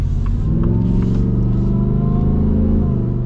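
Engine of a 2025 Shelby F-150 off-road pickup truck revving, a loud, steady deep rumble held throughout with slight rises in pitch, close by and without talk.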